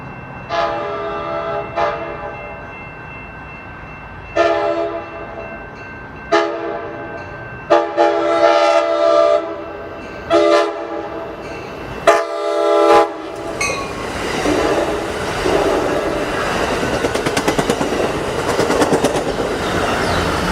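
An Amtrak Pacific Surfliner in Train Sim World 2 sounds its K5LA horn in a series of short and longer blasts, followed by the steady rumble and rattle of the train rolling past close by.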